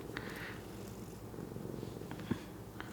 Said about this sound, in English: Ooh, don't move, cat.